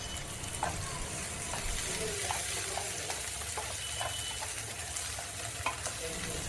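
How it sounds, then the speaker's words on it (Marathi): A steady oily sizzle of tomato frying in oil, with a spatula scraping and stirring through the pan in short, irregular strokes. "आता एक टोमॅटो ॲड करायचा आहे आणि व्यवस्थित ह्या तेलामध्ये भाजून घ्यायचं आहे"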